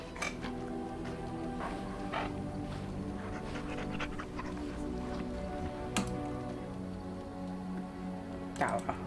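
A dog pants steadily in the game Dragon Age: Origins, blended into a dense in-game ambience with occasional sharp clicks, continuous throughout.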